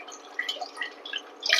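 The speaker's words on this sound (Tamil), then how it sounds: "மொதல் தண்ணியை வந்து களைஞ்சி 2 தண்ணியா ஊத்திட்டு 3வது தண்ணியை இதுல ஊத்தணும்." Rice-washing water being poured into a pot while making Pongal, a close trickling and dripping stream with small splashes, with no talking.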